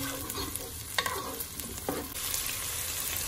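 Ginger, garlic and onion fry in a pan, a steady low sizzle with a few distinct spoon scrapes and taps against the metal, close but fairly soft, no one speaking.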